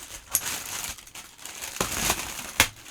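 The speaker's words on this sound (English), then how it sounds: "we're going to use the scissors of power." Scissors snip and crinkle through a mail package from an AliExpress order, a few sharp close clicks and rustles spread unevenly over a few seconds.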